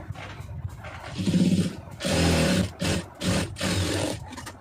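Short bursts of machine stitching on a round neckline, several separate runs of rapid mechanical chatter with brief pauses between them, close and fairly loud, no talking.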